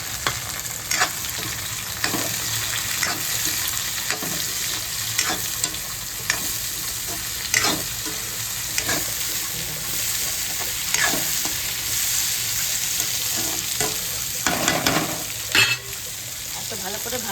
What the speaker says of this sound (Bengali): এবার আমি নুন হলুদ মাখা সয়াবিনগুলো ঢেলে দেবো।